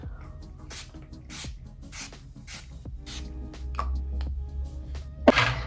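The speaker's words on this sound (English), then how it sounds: "Going to go ahead and spray my face down." Several short hissing sprays from a face mist bottle, spaced about half a second apart, close by, followed by a louder final burst.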